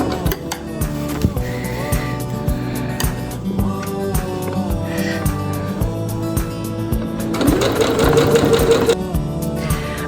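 A sewing machine stitches ruffles onto an apron, its needle clattering in a fast, steady rhythm close by, with brief pauses and a busier burst of stitching near the end.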